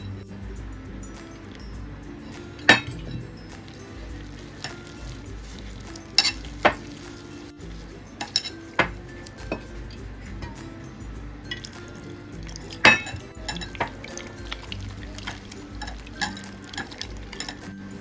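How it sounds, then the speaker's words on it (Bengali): Cold water and batter are whisked together in a mug, a steady soft stirring swish broken by several sharp clinks of the whisk striking the mug's rim at irregular intervals. "এইভাবে কিন্তু ব্যাটারটাকে ফেটাতে হবে"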